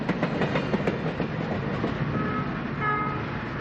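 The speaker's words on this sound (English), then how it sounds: "Here is E8, number 81 again, this time leaving Swink, Colorado, with the 6 cars that constituted train number 201." Santa Fe E8 diesel locomotive number 81 pulls away from Swink, Colorado with six passenger cars, a loud steady rumble with rhythmic wheel clatter over rail joints close by.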